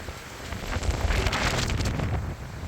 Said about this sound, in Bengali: অতিরিক্ত বিদ্যুৎ চমকাতেছে, সাথে তো বৃষ্টি আসেই, সাথে তো ঝড়ের থেকেও বেশি বাতাস